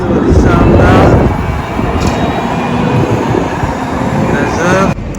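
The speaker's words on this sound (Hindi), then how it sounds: "यहाँ से गुजरती है ये ट्राम" A tram rolls through a city street beside a large shopping plaza, a loud steady rumble and rail hiss up close with squealing wheel tones, and a voice speaks over it.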